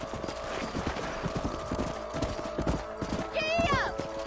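Horse hooves clip-clop at a steady rhythm while riding in Red Dead Redemption, close and continuous, and near the end a horse whinnies, with voices and game sounds underneath.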